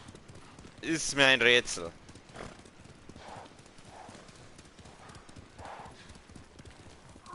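Horse hooves clip-clop at a steady walking rhythm through a Ghost of Tsushima game scene, quiet and continuous, with a short burst of speech near the start laid over them.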